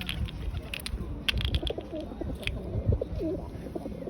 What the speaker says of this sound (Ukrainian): Розумний, базарний голуб